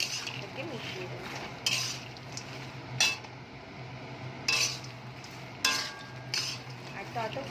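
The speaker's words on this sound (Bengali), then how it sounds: "এবার আমরা মাখানাটা ঢেলে দেবো। ভালো করে মাখানার সাথে ওকে মিশিয়ে দেবো।" Puffed lotus seeds (makhana) are stirred in a pan with butter, salt, black pepper and chilli powder: quiet, soft sizzling broken by a handful of sharp utensil scrapes and clinks against the pan.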